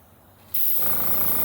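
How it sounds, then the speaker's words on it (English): A single action airbrush starts spraying paint with a sudden, steady, close hiss of air that continues without a break after a moment of quiet. "In the single action airbrush, all you have to do is push the button and it sprays."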